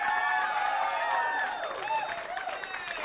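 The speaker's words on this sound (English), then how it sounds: "If you guys could give them a big round of applause" An audience claps and cheers for a Rocky Horror Picture Show shadowcast performing at a live show, a steady wash of applause throughout with voices mixed in.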